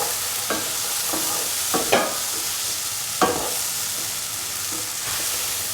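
Green chillies fry in a pan with black-eyed bean and capsicum stew ingredients, a continuous close sizzle broken by several sharp scrapes and knocks of a spoon as the mix is stirred.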